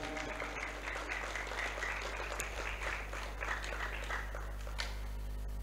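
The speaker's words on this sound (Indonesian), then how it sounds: "Tepuk tangan untuk Cempaka Kuning." Applause for the Cempaka Kuning group at a Pagar Nusa rayon leadership inauguration at a pesantren, a faint, steady patter of clapping over a constant low hum from the sound system.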